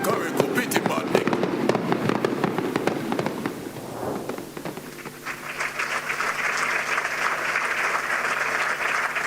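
Loud applause at a CARICOM heads of government conference, dense crowd clapping that swells then settles into steady sustained clapping and cheering, near and continuous.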